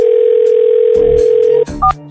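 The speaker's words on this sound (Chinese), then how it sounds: "洪大祥，打电话什么事？" A telephone call tone sounds as a loud, steady single-pitch tone for about a second and a half, then breaks off into a short pair of higher electronic beeps, with no talking.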